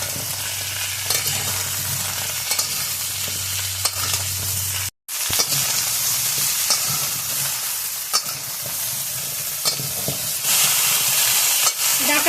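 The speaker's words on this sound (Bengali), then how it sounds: "কুমড়ো আর আলুর সঙ্গে সজনাটাও ভেজে নেব।" Drumstick pieces fry with pumpkin and potato in a pan, making a continuous loud sizzle with stirring scrapes. A steady low hum sits beneath the first half, and a short dropout falls near the middle.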